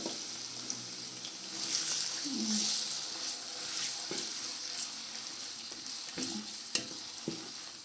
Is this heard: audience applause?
no